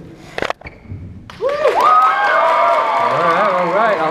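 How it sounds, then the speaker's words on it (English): After a couple of sharp thumps and a brief lull, an audience at a live hypnotist show in the Yukon breaks into loud applause and cheering, with whoops and shouting voices ringing over continuous clapping. "By your round of applause,"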